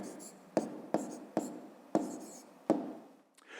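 Pen strokes writing numbers for a fifth-grade math exercise: five short, distinct taps and scratches spaced irregularly, close and fairly quiet, with soft paper rustle between them and no talking.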